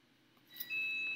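A single steady electronic beep from an Apple Watch sounds close and fairly clear for about half a second, following a quiet stretch of room noise.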